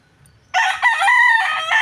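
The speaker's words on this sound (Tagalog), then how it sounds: "Tumitilaok" A rooster crows loudly and close by, one long drawn-out call that starts after a brief quiet moment.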